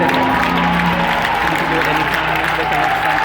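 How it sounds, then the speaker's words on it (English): A church congregation at a Baptist service claps hands loudly and continuously, the dense applause blending with crowd noise and voices in a large, reverberant room. "Clap your hands for them."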